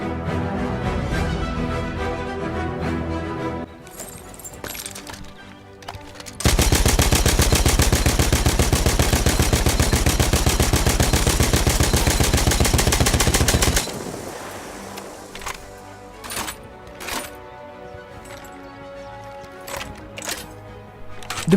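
Gunfire from a weapon in the video game Battlefield 1: scattered sharp shots, then a long dense stretch of rapid continuous firing, followed by sparse individual booming reports with gaps between them.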